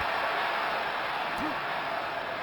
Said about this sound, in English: Crowd trying to lift the team.